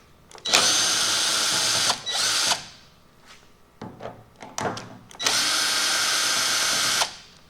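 A power driver removes the T25 Torx screw holding the governor pressure switch on a 2006 Dodge Ram 48RE transmission during a rebuild, with several close, loud whirring bursts of varying length separated by short pauses and small clicks.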